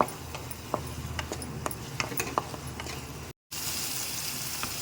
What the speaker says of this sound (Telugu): ధనియా పౌడర్ వేసుకుని ఒక్కసారి కలుపుకోండి లో ఫ్లేమ్ మీద ఒక టూ మినిట్స్ అనేది వేగనివ్వండి